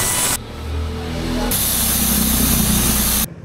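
Lubricant sprays onto a motorcycle chain in a sustained hiss of nearly two seconds, close and loud, following a quieter mechanical hum, with no talk.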